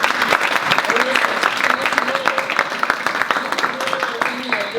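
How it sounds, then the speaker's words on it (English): Audience of residents, faculty and staff clapping together, a dense and steady round of applause that goes on the whole time, with faint voices mixed in. "give a big round of applause"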